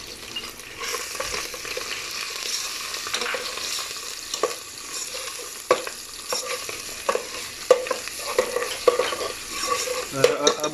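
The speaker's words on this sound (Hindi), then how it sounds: "तो दोस्तों, अभी हम जो है इसमें अभी लहसुन डाला है, पहले डाला था प्याज," Ginger going into a pan of frying garlic and onion, a soft steady sizzle with scraping spoon strokes and small clinks as the mixture is stirred, fairly quiet and close, with no voices.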